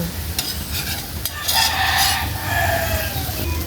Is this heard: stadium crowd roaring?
no